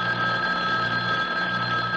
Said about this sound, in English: Mrs. Greenway, aren't you going to answer it? Answer? The phone.